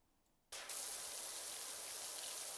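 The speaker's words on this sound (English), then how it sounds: "It's almost like ASMR at this point with how loud the spray is." Steady, loud pressure washer spray from PowerWash Simulator bursts in abruptly after a short quiet moment and holds as a continuous hissing roar to the end.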